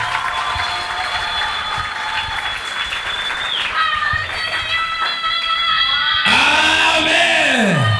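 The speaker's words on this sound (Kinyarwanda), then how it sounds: "amashyi menshi ko nta muntu yakomera amashyi Yesu Kristo" A congregation at a church service applauds steadily for several seconds, with scattered shouts and voices rising through the clapping and a loud vocal cry near the end.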